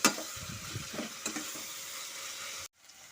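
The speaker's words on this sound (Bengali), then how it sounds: "লবণের সাথে ভালো মতো করে চাল আর গাজরটাকে ভালো মতো করে মিশিয়ে নেব।" Rice and carrots stirred with salt in a pan: a soft sizzle with scraping spoon strokes repeating every half second or so, fairly quiet, ending abruptly.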